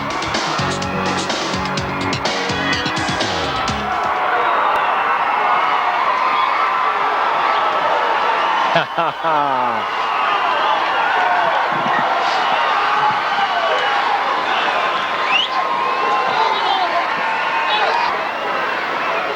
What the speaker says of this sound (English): A great crowd on hand.